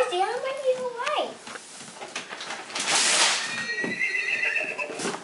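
A horse neighs loudly and close by, a rising then falling whinny, while a child and other people talk around it.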